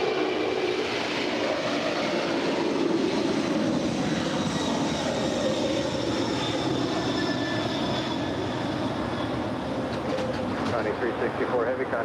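A heavy Boeing 747 jet roars continuously as it departs a parallel runway at LAX, a broad sustained engine rumble filling the whole stretch, moderately distant, with radio-style speech faintly mixed in.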